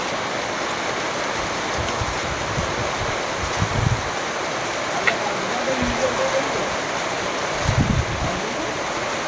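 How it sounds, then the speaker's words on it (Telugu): Unseasonal rain driven by gusty winds in the Tanuku area, a steady broadband wash of rainfall and wind that holds throughout, with a few brief low gusts or thumps rising out of it. "ఈదురుగాలులతో కూడిన అకాల వర్షం కురిసింది."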